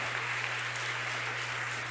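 Church congregation applauding, a dense continuous patter of clapping at steady volume over a low constant hum, with no break throughout.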